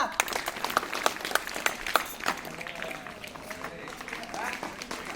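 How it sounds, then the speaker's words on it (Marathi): Students in a school classroom clap during a science lesson, a short burst of sharp hand claps that quickly thins out into scattered patter and room noise. "टाळ्या वाजवा जरा"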